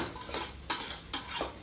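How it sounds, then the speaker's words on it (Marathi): Rice tossed with masala in a pot and stir-fried, a close steady sizzle with a couple of scraping strokes of a spoon against the metal, no voices. "आधी तांदूळ परतून घ्यायचे म्हणजे तो सगळा मसाला तांदळाला लागतो"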